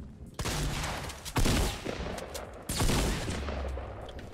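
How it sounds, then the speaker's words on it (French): Rapid bursts of gunfire from a battle royale video game, with loud volleys at the start, around 1.4 seconds and again near 2.7 seconds over a dense, continuous din with no voices. "on entend des tirs"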